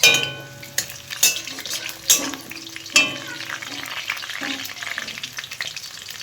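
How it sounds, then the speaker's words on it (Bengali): A whole onion and chopped onion fry in a pan, giving a loud, continuous sizzle that carries sharp utensil knocks and scrapes through the first half before settling into an even crackle. "তো পেঁয়াজটা ভাজা হয়ে গেছে"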